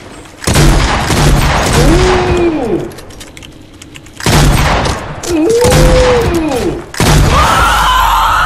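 Gunfire in the video game Fortnite: two loud clusters of rapid shots and booms with swooping effects, separated by a short lull, with a voice faintly under the action.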